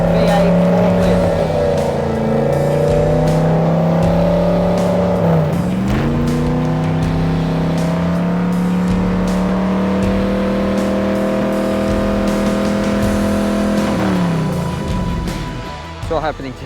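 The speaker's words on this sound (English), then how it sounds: "So this spot shows cars going into the last corner." V8 Supercars race cars roar through the last corner at the Adelaide 500, a loud continuous engine drone rising and falling in pitch as cars brake and accelerate, with people talking over it.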